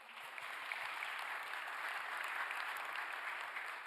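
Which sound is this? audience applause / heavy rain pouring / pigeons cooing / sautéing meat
audience applause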